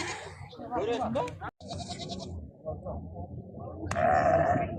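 Sheep bleat in loud, wavering cries amid crowd chatter and people talking at the busy Kegeyli livestock market during price calls, with one long bleat near the end.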